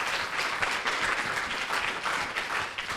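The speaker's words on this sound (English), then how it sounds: "I want everyone to give Renan a round of applause" An audience gives a round of applause at a film Q&A, with dense, steady clapping from many hands that holds an even level throughout.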